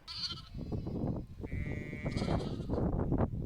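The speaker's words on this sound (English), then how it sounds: "There are baby lambs absolutely everywhere." Spring lambs and sheep bleat on a farm in full lambing season, about 150 sheep with baby lambs everywhere; overlapping close and distant cries rise and fall over a busy, continuous flock murmur.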